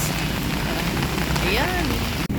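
Heavy typhoon rain pours in a dense, constant hiss, loud and close, with a faint voice briefly rising underneath before a sudden cut near the end.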